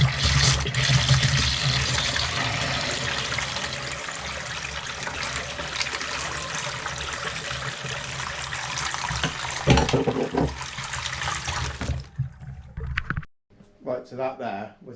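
A tap runs steadily after a heating conversion, a loud continuous rush of water that cuts off near the end, followed by brief clatter and voices.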